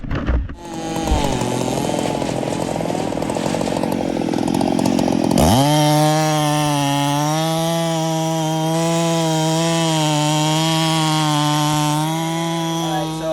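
Battery chainsaws from Stihl, Husqvarna and Milwaukee cutting wood, a loud, close, high electric whine that jumps to a steady full-speed drone partway through and holds without pause.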